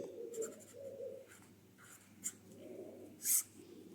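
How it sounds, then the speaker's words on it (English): A pen writes on a label in soft scratchy strokes, faint and close, with a few short bursts and no speech. "Underneath protein, you write chemical."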